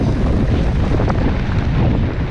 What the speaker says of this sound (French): je sais pas si vous entendez grand chose avec tout le vent